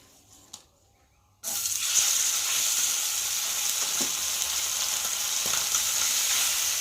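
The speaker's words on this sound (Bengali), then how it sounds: "তেল দিয়েছি দেখতে পাচ্ছ। আর এখন আমি একটু করে মাছ ছেড়ে দেবো" Morola fish fries in hot oil, a loud steady sizzle that bursts in suddenly after a quiet start with a faint tap, then holds dense and close with occasional crackles.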